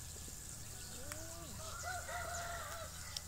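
A rooster crows at a rural village home, a faint, somewhat distant cock-a-doodle-doo with wavering calls under steady background noise.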